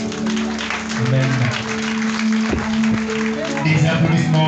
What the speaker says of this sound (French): Des applaudissements encore une fois